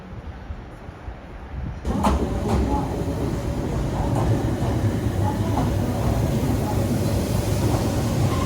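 A Keihan Electric Railway train in Japan rumbles and rattles loudly at its final stop, with rhythmic clacking of wheels on rails, after a quieter moment with a faint voice at the start.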